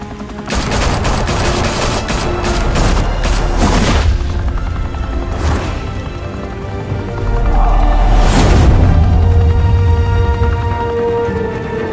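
Sustained volleys of gunfire in the Batman Telltale video game, loud and dense bursts layered with heavy booms, swelling again after a brief lull near the end.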